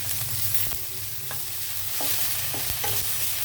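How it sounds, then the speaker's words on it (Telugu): Sliced onions fry in hot oil as ginger garlic paste is stirred in, producing a continuous sizzle broken by repeated spoon scrapes and taps against the pan, heard up close without speech. "ఉల్లిపాయ వేగేటప్పుడే మనము అల్లం వెల్లుల్లి పేస్ట్ వేసేద్దాం"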